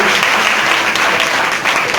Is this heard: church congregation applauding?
yes